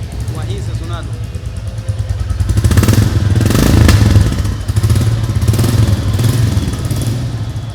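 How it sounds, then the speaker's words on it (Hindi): A 2024 Royal Enfield Classic 350 Stealth Black idles nearby with a steady low thumping single-cylinder beat, swelling briefly as it is revved, while people talk over it. "अब सबसे पहले स्टार्ट करते हैं भाई क्लासिक को।"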